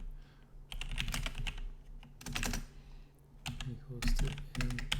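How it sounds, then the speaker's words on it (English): Fast typing on a computer keyboard during Python coding, clusters of rapid clicky keystrokes in bursts with short pauses, close and clear, over a low background hum. "Sorry, I'm typing."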